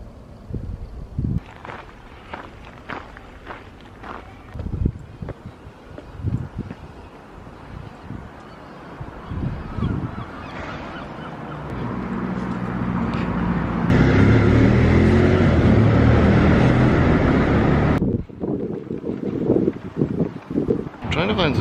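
Gusty breeze buffets the microphone outdoors on a street, rising to a loud, steady rumble midway before easing back, with passing traffic and other street noise around it.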